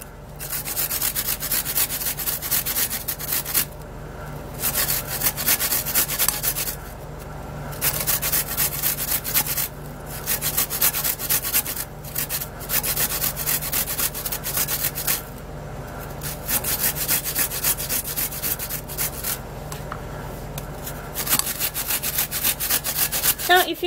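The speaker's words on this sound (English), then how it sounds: "Now, firstly, I am going to be grating my coconuts." Coconut flesh rasped by hand against a metal grater, a loud steady scraping in repeated bursts with brief pauses between strokes, no talking.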